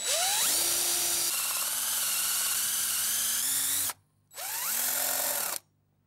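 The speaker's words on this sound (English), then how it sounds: "So as soon as I start drilling and I come up to my tape" A power drill with a spade bit bores into wood. The motor whines up to speed and holds a steady, loud drone, then stops. After a brief pause it spins up again for a second short burst.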